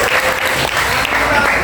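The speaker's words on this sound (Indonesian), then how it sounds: "Oke, tepuk tangan semuanya." Classroom applause from a group of students, a dense, steady patter of clapping that fills the whole stretch at close range, with some voices mixed in underneath.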